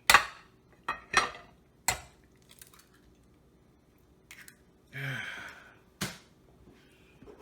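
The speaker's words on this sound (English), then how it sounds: "right here, and then I'll stir them up" Eggs get stirred in a bowl with a few sharp utensil clinks and taps against the side, spaced irregularly, with a sigh-like breath partway through; close and fairly quiet, no talking.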